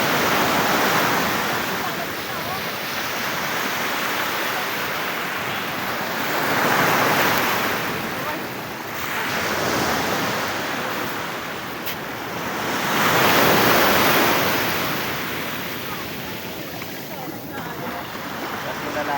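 Strong sea waves at Baluti Beach in Real, Quezon, with a boat nearby, swelling and breaking in repeated loud surges about every six to seven seconds under steady wind rush; a voice speaks briefly.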